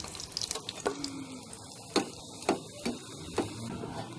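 Aloo puris fry in hot oil in a kadhai, giving a soft continuous sizzle with several sharp clicks and taps of a utensil against the pan at irregular intervals.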